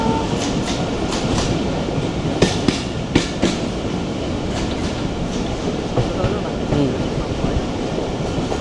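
Tungipara Express carriage rolling steadily, wheels clattering rhythmically over rail joints with sharp repeated clicks above a loud continuous rumble, heard from inside the train.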